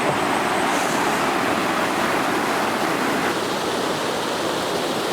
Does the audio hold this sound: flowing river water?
yes